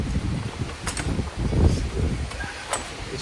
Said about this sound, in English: This wind is like blowing everything over.